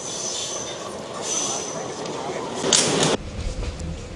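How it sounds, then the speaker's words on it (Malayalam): A meter gauge train pulls into Aryankavu station, a steady rolling rumble with broadband rail noise and a brief louder burst of screech near the end, heard close by. "വണ്ടി ആര്യങ്കാവ് സ്റ്റേഷനിൽ എത്തി."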